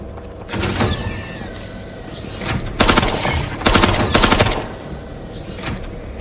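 Video game gunfire with bursts of rapid automatic shots, loud and close, coming in several distinct volleys over a steady background of game sound.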